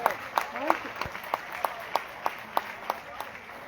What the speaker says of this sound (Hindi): बस जोरदार तालियां रशीद जी के लिए।